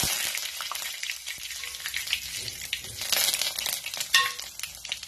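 Curry leaves spluttering in hot oil as a tempering for alu vadi, a close, crackling sizzle with sharp pops scattered through a continuous hiss.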